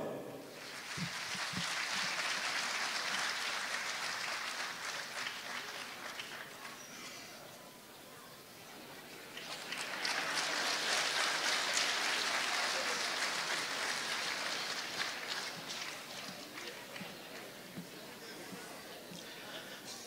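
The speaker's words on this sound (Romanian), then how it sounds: "Încă o dată aplauze!" Live theatre audience applauding actors at an anniversary show in Zalău, a dense sustained wash of clapping that swells, dips briefly in the middle, then surges again, with crowd murmur underneath.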